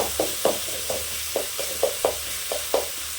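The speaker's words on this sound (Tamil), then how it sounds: "இது நல்லா வதங்கட்டும். வெங்காயம் நல்லா வதங்கியாச்சு பாருங்கள்" Onions sauté in a pan for a gongura chutney, with a steady sizzle and about nine rhythmic scraping strokes of a spoon stirring against the metal, close and fairly quiet.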